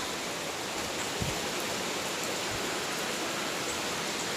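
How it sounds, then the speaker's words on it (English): Steady rain falling outside a cabin, a dense even hiss with a couple of faint thuds, continuous throughout. "I want to show you all the rain that we're getting"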